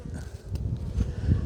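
Honey bees buzz close by in a low, wavering drone during a hive inspection, with faint rustling movement around them.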